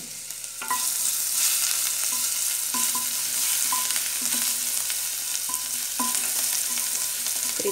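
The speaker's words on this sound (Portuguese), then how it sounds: "fritar bem esse alho" Garlic sizzles steadily in hot oil, with occasional clinks of a utensil stirring the pan close by.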